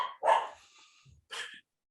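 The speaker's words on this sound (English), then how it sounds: "my dog's losing it" Dog barking indoors, two sharp barks separated by a short pause, fairly close and moderately loud with a faint low whimper between them.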